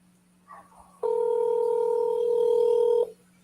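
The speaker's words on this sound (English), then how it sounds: "It should be ringing. I can hear you ringing." A steady, loud telephone ringback tone sounds for about two seconds while a call is placed, with a faint murmur just before.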